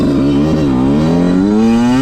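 Freshly rebuilt Yamaha YZ125 two-stroke dirt bike engine running close and loud, a steady buzzing idle whose pitch wavers slightly as the throttle is blipped.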